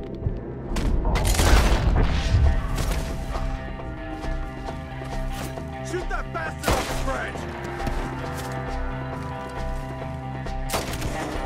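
Gunfire in a Red Dead Redemption 2 shootout: a loud booming volley early, then scattered sharp shots and bangs over busy game noise, hoofbeats and shouted voices.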